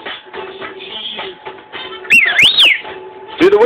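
Bright, sliding whistled notes from a bird rise and fall over a background of clicks and shuffling, with a couple of loud swooping whistles standing out.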